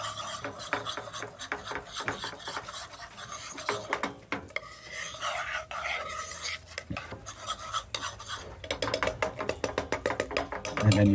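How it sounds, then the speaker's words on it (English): A zaprashka roux of paprika in a hot pan, taken off the heat as a little soup is added, gives close scraping, stirring and crackling sounds that are moderately faint and uneven, with no talk. "And listen to that noise now. Lets you know the zaprashka is ready."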